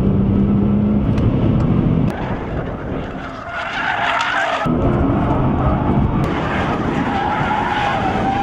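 A Nissan GT-R driven hard around a small makeshift track, its tires skidding and squealing loudly and continuously over a steady engine roar, close and with no talking.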